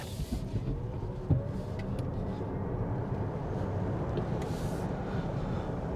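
A Lexus ES 500e electric car accelerating hard onto a freeway, heard from inside as a smooth rising road and wind rush with a low hum, fairly quiet and steady, no talking.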